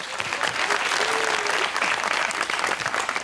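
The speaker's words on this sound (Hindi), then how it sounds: "तालियां।" A studio audience on a Pakistani television talk show bursts into steady, dense applause that holds at full strength from start to finish, with no talk over it.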